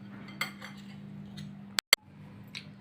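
A spoon stirs red bean salad ingredients together in a bowl, with a few soft scrapes and then two sharp, close clinks near the end over a low steady hum.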